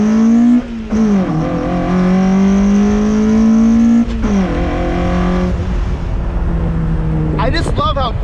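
A loud car engine revs and holds a deep, steady roar, dips briefly, then revs again close by.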